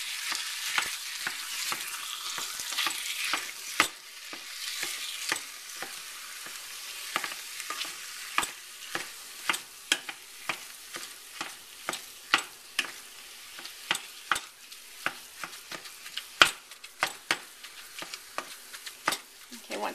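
Ground beef browns in a little olive oil in a pan, making a continuous close sizzle. Frequent sharp scrapes and taps from a utensil break the meat up in a quick, uneven rhythm.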